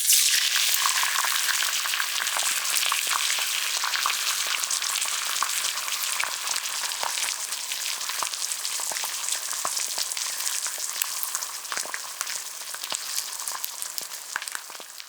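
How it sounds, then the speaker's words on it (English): Steady, bright sizzling and crackling of an egg frying in butter in a hot pan, with constant popping spatter close up and no voices. "An egg hitting sizzling butter in a hot pan."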